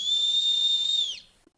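One shrill emergency whistle blast, close and piercing, holds steady for over a second before sliding down and cutting off, followed by a couple of faint clicks.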